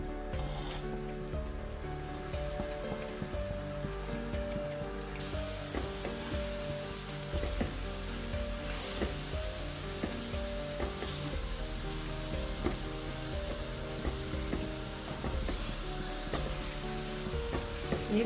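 Chopped banana flower sizzles and crackles steadily in hot oil in a pan as it is stirred, a dense, continuous frying hiss with occasional scraping stirs, close and fairly loud throughout.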